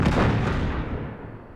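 Gunfire from enemies in the Uncharted 3 video game: a dense, booming burst of shots up close at the start that decays over about a second and a half, heard alone without talk.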